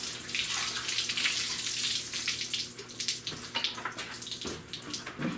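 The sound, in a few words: water hose rinsing a rusty car frame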